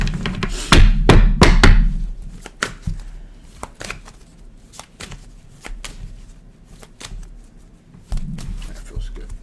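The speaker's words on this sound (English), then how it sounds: "One more shuffle" A deck of tarot-style cards is shuffled close by, with bursts of crisp riffling and sharp taps and thumps of the cards on a table, in irregular clusters separated by quieter gaps.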